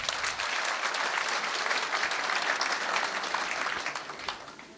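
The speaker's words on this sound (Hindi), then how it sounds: "तालियां बजाइए जोरदार" Loud, sustained applause from an audience at a motivational talk by a senior IAS officer, dense clapping filling the whole stretch without any talk and easing slightly at the very end.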